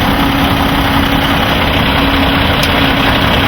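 A truck's heavy engine runs loud and close with the PTO system and blower engaged, a constant low droning roar with a steady tonal hum and vibration, unbroken and alone.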